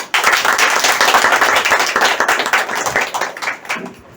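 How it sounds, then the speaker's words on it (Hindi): Audience applause at a health talk in a herbal store, dense and loud from the first moment, many hands clapping together before it thins into scattered claps near the end. "दोनों के लिए तालियां होना चाहिए दोनों"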